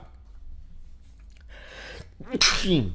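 A man gives a single sharp, loud sneeze near the end, preceded by a brief inhaled buildup, close to the microphone in a quiet room.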